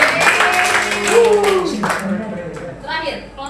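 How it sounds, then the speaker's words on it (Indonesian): A class of primary school children claps for a classmate during a lesson, brief clapping mixed with children's voices and chatter near the start before the clapping fades. "beri tepuk tangan ke Ki Asri"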